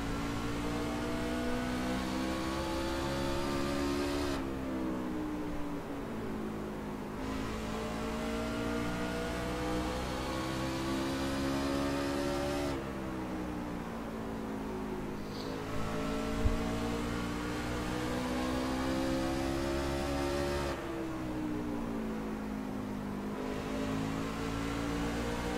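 Race car engines in a PC racing game drone steadily at mid pitch, with recurring rises and falls in tone as cars rev and shift, a continuous layered whine with no talk.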